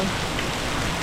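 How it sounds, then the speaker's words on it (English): Passing rain falls steadily around someone working outdoors on a motorcycle speedometer screen, a dense even hiss throughout the short stretch with no talking. "Starting to rain. This is just like a passing rain"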